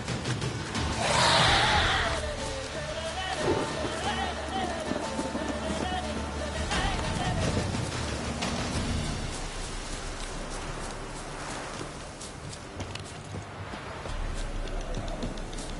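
Rain falling in The Witcher 3: Wild Hunt, a steady soft patter of game rain with a brief louder gust early on, under low character voices and ambient music.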